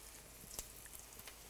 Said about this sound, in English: Yeah, that sizzle's nice. Crack, sizzle, pop.